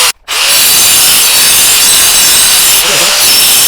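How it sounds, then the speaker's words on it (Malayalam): A power saw blade bites into a masonry wall, a loud, harsh continuous grinding rasp that starts after a brief pause and runs steadily close to the mic. "അപ്പോൾ നമുക്ക് ഇന്നൊന്ന് ഭിത്തിയും ഓടിച്ച് നോക്കാം എങ്ങനെയാണ് കട്ടിങ് വരുന്നത്."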